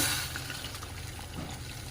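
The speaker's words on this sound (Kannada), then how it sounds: "ಈ ಬೌಲಿಂದ ನಾನು 3 ಕಪ್ಪಷ್ಟು ಬೌಲಷ್ಟು ನೀರು ಹಾಕ್ತಾಯಿದ್ದೀನಿ" Water poured from a bowl into roasted semolina while cooking uppittu, a steady close splashing and hissing pour that runs the whole time with no talking.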